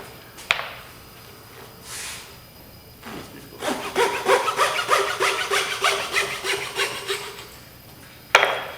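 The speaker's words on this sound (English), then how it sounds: "I'm just randomly cutting some strips here" Material cut into strips by hand, a rapid series of rhythmic rasping strokes, close and fairly loud, with a few sharp knocks before and after and no talking.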